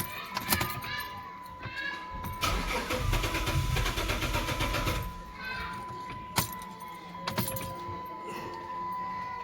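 A 2007 Chrysler 300 with a crank-no-start fault cranks in repeated bursts, its starter churning loudly before the engine fails to catch, with keys jangling and a brief voice nearby.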